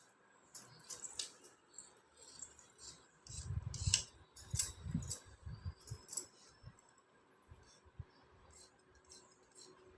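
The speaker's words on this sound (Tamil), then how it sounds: "இப்போ இதை நம்ம கட்டிங் போட்டுடலாம்." Scissors snip through blouse fabric on a table in a run of close, crisp cuts, a dense cluster of bites in the middle giving way to sparser single snips, with no talking.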